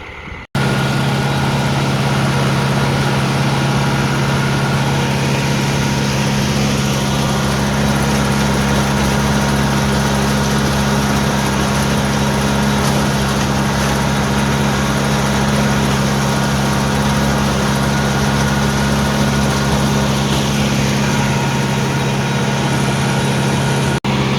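An open tractor engine drones steadily and loudly while cutting a field of sorghum sudan and oats for baleage, a constant low mechanical hum with a whining overtone that runs unbroken for over twenty seconds, with no talking.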